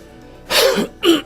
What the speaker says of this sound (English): I got this crazy cough